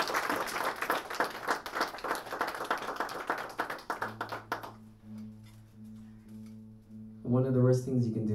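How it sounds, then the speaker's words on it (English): Burst of audience clapping and applause for hula dancers at a live music performance, lasting several seconds, then fading as sustained instrument tones and a voice take over. "Big round of applause"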